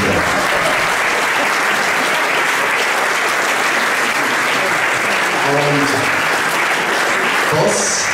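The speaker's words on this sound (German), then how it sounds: "Und das ist wirklich einen riesen Applaus wert" Sustained applause from a large crowd at a traditional brass band concert, steady and dense throughout, with a few faint voices rising briefly near the end.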